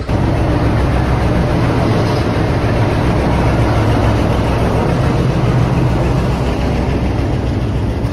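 Interior of an Indian Railways Ganadevta Express sleeper-class coach running from Howrah to Azimganj: a steady, loud, low rumble and rattle of the moving train, continuous throughout with no voices.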